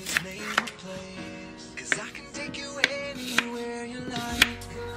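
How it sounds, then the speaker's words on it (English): A knife chops vegetables and fruit on a cutting board in sharp, irregular strikes, roughly one or two per second, close and clear over quiet background, with speech also present. "While the rice is cooking, let's cut our vegetables and fruits."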